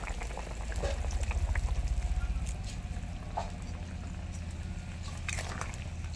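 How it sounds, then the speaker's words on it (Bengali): A pot of lentil bori jhol, a Bengali lentil-dumpling curry, bubbles at a steady boil, with a low rhythmic burbling and occasional soft pops and clinks close by, no talking. "ঝোল ফুটে গেছে, এবার নামানোর 10 মিনিট আগে আমি গরম মশলাটা দিয়ে দেব।"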